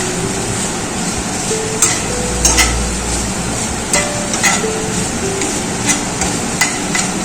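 Potatoes and poppy seeds frying lightly in a pan for aloo posto, a loud close sizzle with repeated sharp knocks and scrapes of a spoon stirring against the pan at an uneven rhythm.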